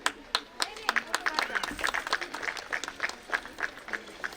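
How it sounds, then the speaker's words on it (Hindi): Audience members at a school annual function clap during a prize-giving on stage, with scattered, lively applause and a voice talking over it. "तालियां बजाते रहिए आप"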